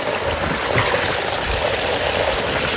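Water runs through a nearby farm field channel in a village, making a continuous close rushing, trickling flow that stays even throughout.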